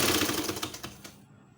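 A sewing machine rapidly stitches elastic onto a fabric diaper cover, a fast rattling run of needle strokes that slows and stops after about a second, then silence.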